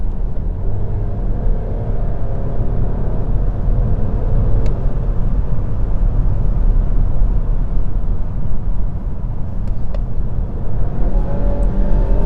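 A 2022 Volvo S90 Inscription on the move, steady low road rumble and tyre roar from the cabin, constant and fairly loud throughout with no talk.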